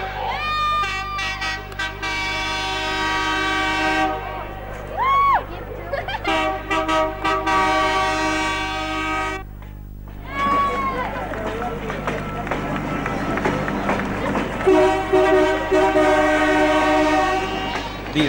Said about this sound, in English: the double-decker pulled noisily into Newcastle station